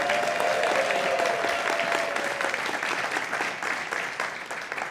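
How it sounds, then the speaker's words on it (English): An audience at a guide dog graduation ceremony claps and cheers in a dense, sustained round of applause that stays loud throughout and slowly fades slightly at the end. "Come on, give yourselves a round of applause."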